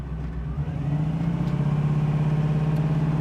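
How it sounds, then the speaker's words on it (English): A 1968 Pontiac Firebird with a manual transmission accelerating through the gears, its engine note climbing in a strong steady tone from inside the car, loud and close with no talk. "We'll run it up through some gears here"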